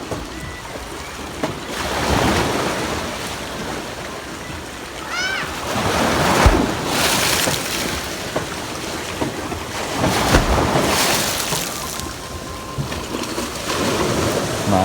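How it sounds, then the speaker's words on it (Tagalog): Rough surf washing against a shore beside a boat, with repeated rushing swells and wind buffeting the microphone, fairly loud and close, with some voices in the background. "Maalon sa ganang pasigan."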